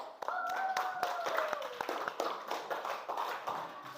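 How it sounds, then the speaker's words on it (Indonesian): A fifth-grade class claps their hands in an irregular, scattered patter for several seconds in a classroom, with a voice briefly heard near the start. "Tepuk tangan"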